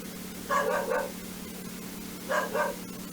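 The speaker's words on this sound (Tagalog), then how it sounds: "Ay, ang ingay ng aso." A dog barks in two short bursts of two or three barks each, moderately loud and a little distant, over a low steady hum.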